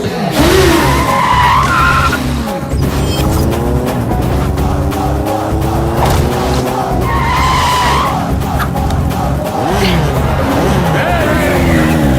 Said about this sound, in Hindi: इतनी स्पीड में बाइक भगाई है, कोई हमारे पीछे नहीं आएगा।